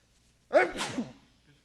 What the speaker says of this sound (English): Starting to sneeze out of ecstasy.